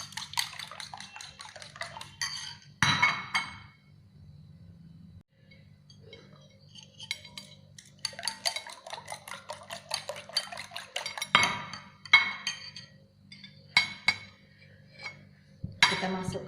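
A utensil scrapes and clinks against a cooking pot while food is stirred, giving irregular bursts of metallic scraping and clatter with quieter pauses between, close and fairly loud.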